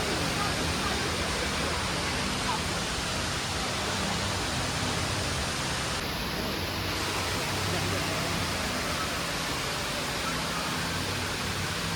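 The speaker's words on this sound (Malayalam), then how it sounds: "ഇതാണ് ദുബായ് വാട്ടർഫോൾസ്." Steady broadband rush of the indoor waterfall at the Dubai Mall, a dense continuous wash of falling water that holds unchanged throughout at a moderate level, with no clear voices rising above it.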